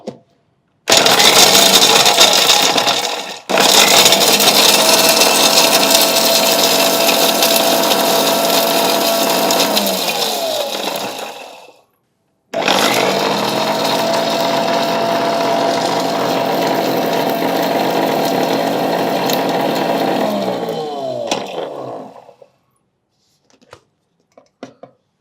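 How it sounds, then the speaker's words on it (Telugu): A kitchen mixer grinder powders roasted ingredients in two loud, steady whirring runs, each ending in a falling whine as the motor spins down. A few faint clicks follow. "ఫస్ట్ పూల్ మకాని వేసుకొని మిక్సీ పట్టుకుందాం."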